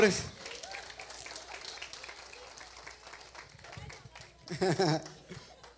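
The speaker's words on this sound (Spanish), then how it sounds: "Un aplauso para la fe de mi esposa." A church audience applauds after a preacher's call, with scattered clapping under crowd chatter and a speaking voice, and a louder burst of claps and voices near the end.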